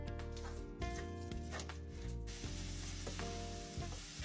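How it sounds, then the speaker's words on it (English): Breakfast sausage, a pound of it, browning in a large skillet over medium-high heat, giving a steady close sizzle with some scraping and stirring beneath, no talk. "I have 1 pound of breakfast sausage that I'm going to brown"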